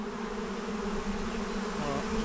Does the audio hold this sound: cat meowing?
no